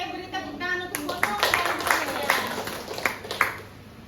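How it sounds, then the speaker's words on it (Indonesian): Audience clapping in a hall, a burst of many hands with scattered sharp claps lasting several seconds, a voice speaking over it at the start. "Oke, beri tepuk tangan untuk foto"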